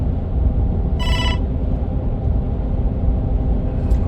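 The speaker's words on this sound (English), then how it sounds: "we're going to have to pause this because we got a phone call coming" A telephone ring chirps once, short and bright, for an incoming call over a loud, steady low rumble that fills the whole stretch.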